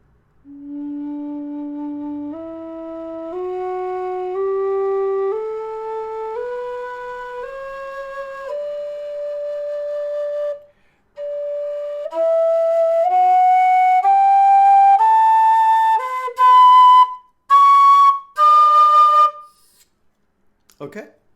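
A low D whistle plays a slow ascending scale, each note held clear and breathy, climbing steadily before a few higher, shorter notes near the end.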